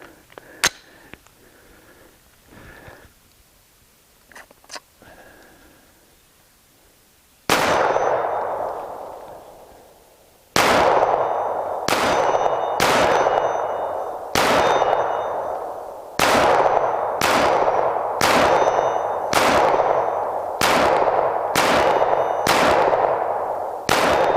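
Suppressed Glock 17 9mm pistol firing about a dozen sharp, loud cracks at an uneven pace, each with a short ringing metallic decay, after a quiet stretch with faint handling clicks.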